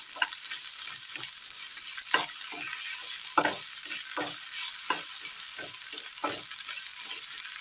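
Curry ingredients sautéing in a pan in a Kerala kitchen until their raw smell fades, with a steady sizzle under repeated sharp scrapes and clanks of a spoon stirring, close and fairly quiet.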